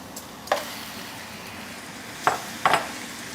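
Prawns sizzling in a wok for garlic prawns, a steady hiss under three distinct stirring scrapes and clanks of a utensil against the metal, close and without talk.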